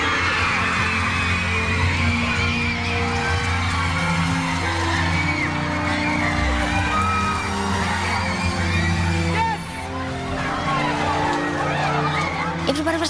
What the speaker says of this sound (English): Everybody was screaming and crying.